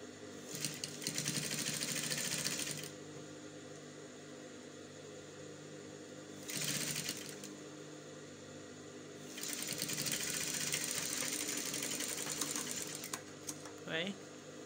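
A sewing machine stitches a corset bra cup in three runs of steady, fast whirring separated by pauses, fairly faint and close, with a brief voice near the end.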